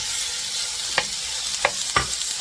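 Pork belly frying in its own rendered fat in a wok, a steady, bright sizzle close up, broken by three short scraping stirs.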